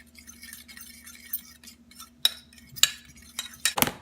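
A whisk scraping and tapping in a bowl as cinnamon and baking powder are mixed, a few sparse metallic clinks and ticks that get sharper and more frequent toward the end, close and fairly quiet.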